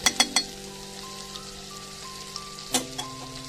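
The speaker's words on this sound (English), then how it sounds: "Let's just melt this butter in a pan" Garlic herb butter melts in a pan over a medium flame with a soft, steady sizzle, broken by a few close clatters at the start and once more later, with music running underneath.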